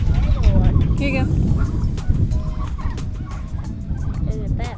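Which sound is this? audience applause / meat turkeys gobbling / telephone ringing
meat turkeys gobbling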